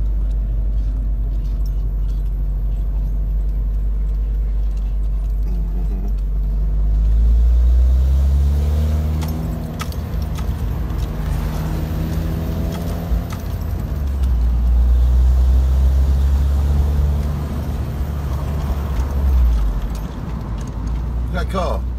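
An open-top car with no roof drives along a road, its engine rumbling loud and steady with rising and falling revs and heavy wind noise, while people talk over it.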